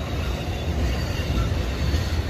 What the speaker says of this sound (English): It's an Amtrak train.